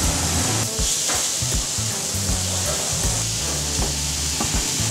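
Food sizzles steadily on a grill for a Peruvian-style cumin dish, a constant close frying hiss broken by brief stirring and scraping clatters and faint background voices.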